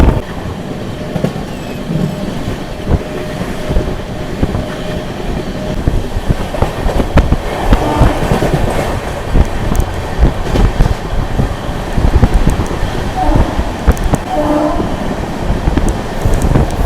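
Passenger train from Puri to Kolkata running steadily, a loud continuous rumble with rhythmic wheel clatter and occasional squeals, heard from inside a nearly empty carriage with no talk.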